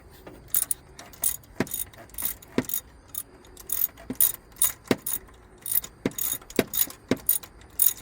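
A ratchet loosens the alternator bolts on a 2002 Ford Crown Victoria, sharp close clicking bursts repeating in irregular runs of quick strokes, with faint quiet background between them.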